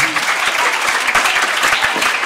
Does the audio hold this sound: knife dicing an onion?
no